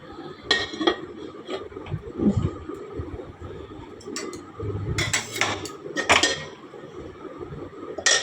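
A lid goes onto a cooking pot of potatoes and tomato, several sharp metallic clanks and clinks scattered over a few seconds, with quieter handling rattles between them.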